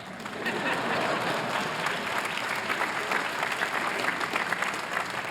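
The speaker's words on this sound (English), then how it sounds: "yes, you can applaud" Crowd applause at a Harvard commencement speech, a broad, even wash of clapping from a large outdoor audience that holds steady for several seconds.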